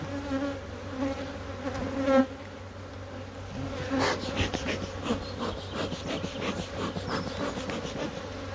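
Honeybees swarm around an open beehive with a dense, continuous buzz, close and steady, while brief handling clatter and rustling join in partway through.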